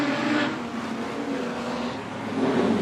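Production sedan race cars roaring around Carina Speedway during a final, a loud continuous engine drone with a passing surge at the start and another rising near the end.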